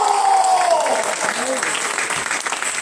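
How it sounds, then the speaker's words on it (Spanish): Applause from a church congregation during a sermon by a pastor, a steady dense patter of many hands filling the space, with a preacher's voice rising over it at the start. "¡Uy, que ese aplauso tuyo, Dios!"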